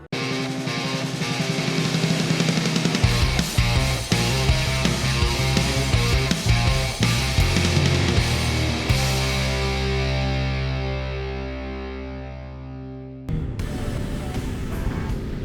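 A 2020 BMW S1000XR motorcycle ridden through city streets, its engine a steady, close droning note that shifts pitch in steps as it changes gears, easing briefly near the end before picking up again.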